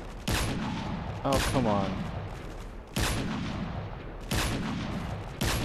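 Heavy bursts of gunfire in the Modern Warfare 3 video game, a loud sustained volley with four or five sharp onsets over a dense battle din, with a brief spoken exclamation in between.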